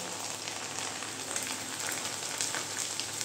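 Chickpea lentils fry in hot oil for chanachur with an even, crackling sizzle that holds steady and fairly close throughout, with light popping spatters.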